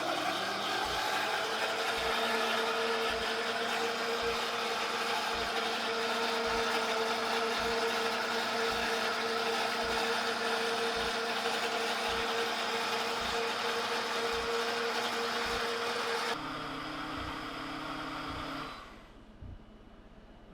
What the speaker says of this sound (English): We'll start the blender.